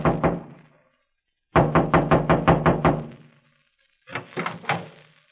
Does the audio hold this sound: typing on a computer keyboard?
no